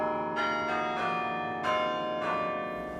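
Several bell strikes from the UT Tower bells ring out in an uneven sequence, each note swelling and lingering into a rich, overlapping tonal wash as they play a melody.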